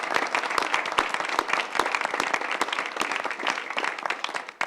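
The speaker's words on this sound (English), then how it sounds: "So a round of applause for the program group." An audience at a panel event on regulating genetic testing applauds the program group, with a steady patter of many hands clapping, fairly quiet and tapering off at the end.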